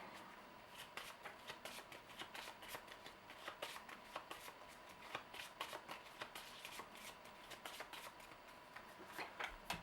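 Cards from a Legendary Encounters: Alien deck-building game are shuffled over and over, a quiet papery riffling with soft repeated flicks and snaps, close by and faint.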